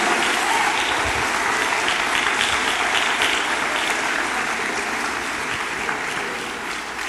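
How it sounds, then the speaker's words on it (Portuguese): A church congregation at a deliverance seminar claps loudly and continuously, a thick, close wash of hands that eases slightly toward the end. "Agora aplauda o Senhor Jesus."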